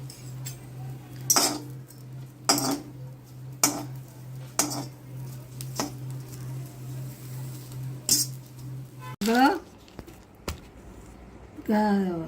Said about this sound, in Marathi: कढईमध्ये थोडी चांगली भाजून घ्यायची